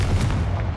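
Confringo blasting spell in Hogwarts Legacy, a short, deep booming blast with a rumbling tail, close and loud, no talking.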